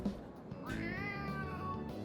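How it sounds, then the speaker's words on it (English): A stray cat in Persona 3 Reload lets out a single drawn-out, rising and falling meow, close and clear over soft background music. "Kitty! Oh, a kitty cat!"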